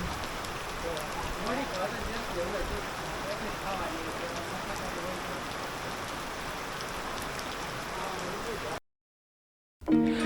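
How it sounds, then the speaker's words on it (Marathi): Steady, dense monsoon rainfall pours down in a village for several seconds, a constant hiss of drops on surfaces, then cuts to silence before a brief voice. "आज पावसाने एवढा जोर धरला होता की अजिबात थांबतच नव्हता"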